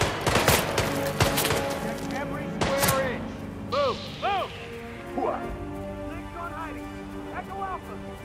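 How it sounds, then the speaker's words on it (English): Guards fire weapons in the video game Hitman 3, with a burst of sharp, loud gunshots in the opening seconds followed by voices talking and calling out over a lingering game soundscape. "Fire at will."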